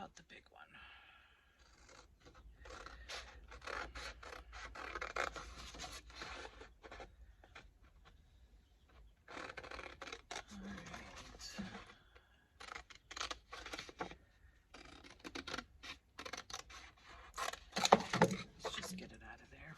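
Scissors snip and rustle through material while cutting out a large circle for a pocket folio, in bursts of close, crisp cuts separated by short pauses.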